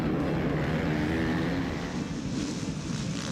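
ATV engines rev together at the gate of a motocross race at Budds Creek, forming a dense, loud, sustained roar with rough buzzing harmonics that eases slightly toward the end.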